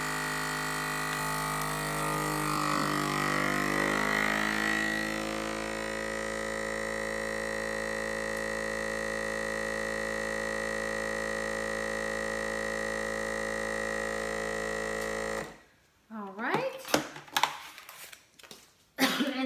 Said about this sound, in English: So let me vacuum it.